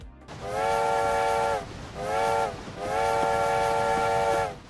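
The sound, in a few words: train whistle from a PC train driving video game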